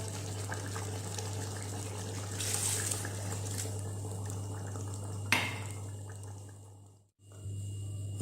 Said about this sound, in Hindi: अभी हम इसमें ऐड करेंगे 1 कप पानी का।